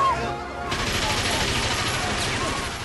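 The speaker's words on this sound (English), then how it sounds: "A Tommy gun!" A Tommy gun fires in a movie scene: a loud, dense burst of rapid automatic gunfire runs continuously for nearly three seconds.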